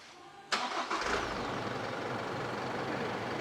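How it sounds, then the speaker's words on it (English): A car engine cranks with a sharp burst, then catches and settles into a steady, loud idle that continues without a break, recorded close by. "He's going to go and start the car up for me"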